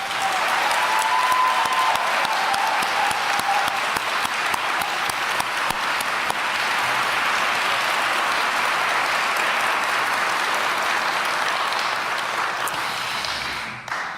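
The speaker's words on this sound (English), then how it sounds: "let's give him a well-deserved round of applause" A large audience gives a sustained round of applause at a farewell address for San Antonio Mayor Ron Nirenberg, dense steady clapping filling the hall for about fourteen seconds before tapering at the very end.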